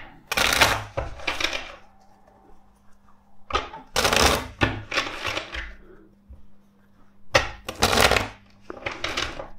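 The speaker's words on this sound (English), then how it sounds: "Let's shuffle this deck" Tarot cards are shuffled in three quick riffling bursts, crisp and close, separated by short pauses with a faint steady hum underneath.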